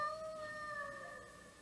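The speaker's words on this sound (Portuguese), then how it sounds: "o cachorro do vizinho que tá no cio," A neighbour's dog in heat howls in long, sustained, wavering tones that hold steady throughout, fairly faint and somewhat distant with no one talking over it.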